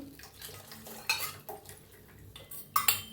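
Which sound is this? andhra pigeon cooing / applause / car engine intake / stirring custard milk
stirring custard milk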